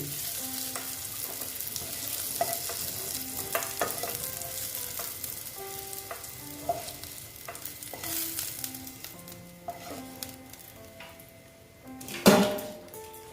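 Bitter gourd fries in hot oil while the pieces are lifted out, a soft continuous sizzle with scattered clinks and scrapes of a utensil against the pan and a louder knock near the end.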